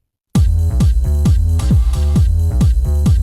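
A ride cymbal rides a loud electronic beat in a remix, its shimmering hits repeating evenly over heavy, thumping kicks throughout.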